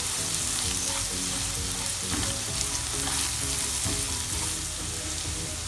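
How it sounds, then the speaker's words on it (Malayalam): Garlic chicken with salt and pepper sautéing in a pan, a steady loud sizzle and frying crackle with occasional stirring scrapes throughout, no voices. "അങ്ങനെ പെപ്പറും ചേർത്ത് ഒന്നും കൂടി ഒന്ന് വഴറ്റിയെടുക്കാം"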